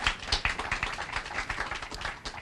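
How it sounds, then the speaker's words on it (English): A modest audience at a Maryland community development open house claps for a speaker, giving a short burst of irregular, moderately loud hand claps with no voices over them. "Give him a round of applause."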